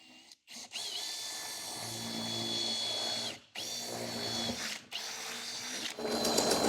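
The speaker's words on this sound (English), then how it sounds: "open it up to the 4-inch hole saw." A power drill whines steadily as a 4-inch hole saw grinds through a truck bed's metal, with brief pauses where the motor stops and restarts.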